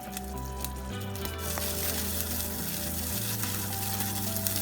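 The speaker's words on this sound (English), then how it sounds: "broccoli is cooking and sizzling." Steady, quiet sizzling of broccoli cooking with water and soy sauce in a pan, a soft continuous crackle with a low hum underneath and no talking.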